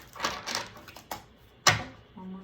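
A deck of tarot cards is shuffled by hand in several quick, crisp riffles and slaps close by, followed by a soft trailing sound at the end.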